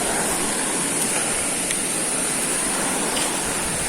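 A river rushing through rugged cliffs and ravines in General Nakar, Quezon: a continuous broad roar of flowing water, loud and steady with no pauses, heard from nearby.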